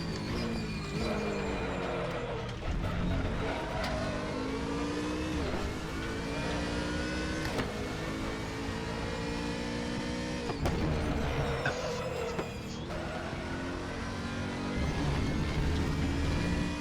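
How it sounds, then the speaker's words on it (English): A BMW Z4 in the RaceRoom racing game, with a squeal from the rear right tire running the whole time over a steady, revving engine drone and shifting pitch, loud and continuous throughout. "it just sounds like there's squealing coming from the rear right the whole time."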